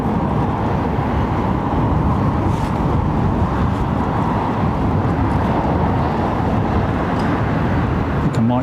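A heavy airliner departs London Heathrow Airport in the late afternoon, its engines making a loud, steady broadband roar that holds for the whole stretch with no break and no voices.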